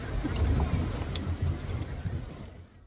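A pedal boat moves through the water at a garden lake in Kottayam, pedaled by two people in hot sun. A low, steady churning and sloshing rumble with wind buffeting the microphone fades out near the end, and no one speaks.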